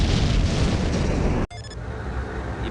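A C4 explosive blast in a Nuclear Strike cutscene on the PlayStation: a loud, sustained roaring boom that cuts off abruptly, followed by a quieter rumbling tail with faint ringing tones.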